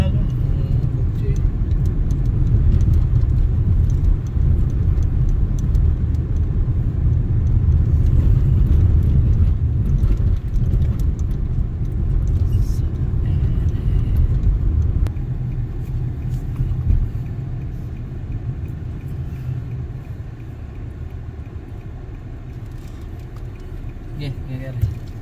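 A car driving along a road in Quebec, Canada, giving a steady low rumble of engine and tyre noise heard from inside, with people talking throughout.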